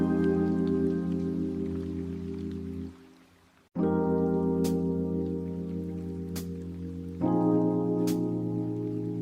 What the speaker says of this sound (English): I am watching the rain beat against the glass.